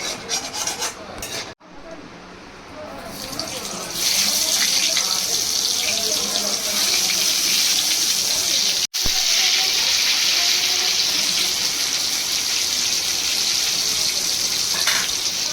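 Pointed gourd (potol) pieces dropped into hot mustard oil left from frying fish, giving a loud, steady hiss and crackle that swells after a brief sharp splash, continuous with small pops throughout.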